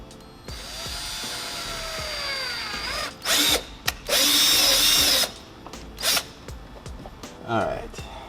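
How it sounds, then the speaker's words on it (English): A power drill whirs in loud bursts into a Subaru WRX STI bumper, starting and stopping several times, with a steady hum and faint clicks between runs, close up. "so we're gonna go ahead and drill the bumper."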